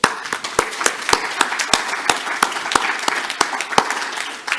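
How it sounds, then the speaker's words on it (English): Conference audience applauds to thank the sponsor Biohaven at the Ataxia UK annual conference, a steady wash of many hands with sharp individual claps popping through, moderately loud and continuous throughout. "would you join me in thanking them with a round of applause?"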